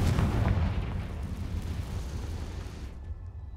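Confringo blasting spell explosion in the Hogwarts Legacy video game: a loud, heavy boom with a deep rumbling body that slowly decays over a few seconds.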